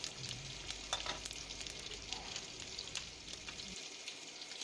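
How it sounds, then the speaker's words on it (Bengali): Whole spices, panch phoron, nigella seeds and poppy seeds, sizzling in hot oil, a faint steady crackle with scattered tiny pops, close by and quiet. "পাঁচ ফোড়ন, কালো জিরে আর গোটা পোস্ত দিয়ে দিলাম এখানে"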